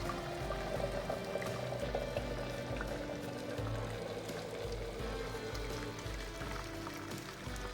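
Boiling water pours continuously over oak chips in a steady, even gush, a close and constant liquid rush with no talking.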